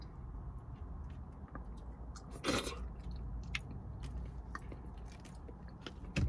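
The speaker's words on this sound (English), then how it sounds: "I don't know if it's a chew or swallow, but I'm chewing it." Egusi soup with yam fufu being chewed close to the mouth, with soft wet biting and crunching and a brief louder rustle partway through, all fairly quiet.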